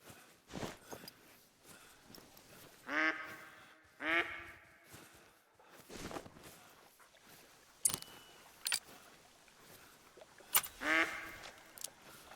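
Ducks quack in short bursts of two or three calls spread across a quiet outdoor scene in the hunting game theHunter: Call of the Wild, moderately close, with scattered footsteps and clicks between.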